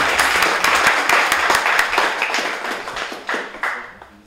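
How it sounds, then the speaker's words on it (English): An audience applauding spelling bee contestants at a grade 8 spelling bee, steady close clapping from many hands that gradually thins out and fades toward the end. "let's have a round of applause for all our spelling bees"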